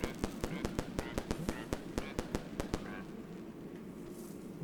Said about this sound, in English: Well, that's my last firecracker.